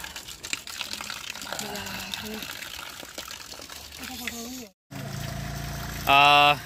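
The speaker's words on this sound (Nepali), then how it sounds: "एकदमै चिसो चिसो मूलको पानी" Steady rush of very cold spring water flowing in Devchuli, Nawalpur, runs throughout, with a voice talking over it and a brief dropout near the end.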